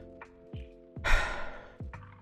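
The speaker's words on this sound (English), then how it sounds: "that's me breathing extra loud" A streamer exhales loudly and close into a microphone, a few heavy sighing breaths in and out, with one long, noisy breath dominating the middle.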